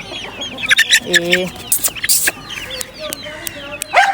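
Chickens cluck and a rooster calls in a busy, close flurry of short squawks and clucks, with a voice talking over and between them.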